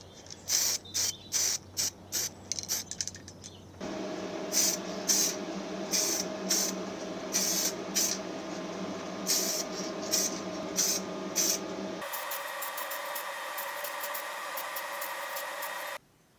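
Aerosol spray paint on a 40-year-old cement mixer's carburetor, short hissing bursts in a rhythmic series, then a longer steady hiss, all close and alone.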